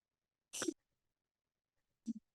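A single sharp sneeze bursts out close by, followed by a brief pause and then a short, softer double sound.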